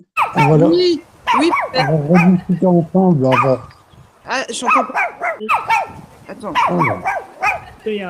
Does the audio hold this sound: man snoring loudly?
no